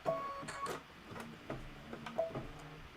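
A sewing machine stitches slowly, giving a soft mechanical ticking and clunking in an uneven rhythm, quiet and close, with no voices.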